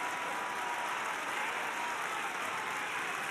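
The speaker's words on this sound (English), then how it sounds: "The crowd are giving him a standing ovation." A snooker crowd at the Masters gives a standing ovation as Neil Robertson levels the final at five frames each against John Higgins. The applause is a steady, even wash of many hands, distant and continuous throughout, with no voices over it.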